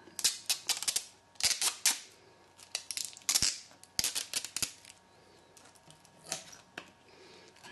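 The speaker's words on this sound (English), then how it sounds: "We've got a small piece of tape to undo" A small piece of tape is picked and peeled from an iPod Nano 6th generation box, giving a series of crisp close-up clicks, crackles and short tearing bursts in irregular clusters, with no talking.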